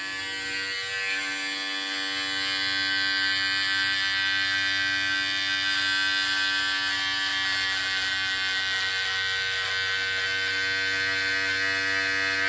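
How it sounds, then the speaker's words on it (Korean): An electric beard trimmer buzzes close and loud while trimming the edges of a beard, a steady high-pitched motor hum holding for the whole stretch with slight changes as it moves against the hair. "테두리 부분들을 트리밍 이렇게 하고 나머지는 안전면도기로 하도록 하죠"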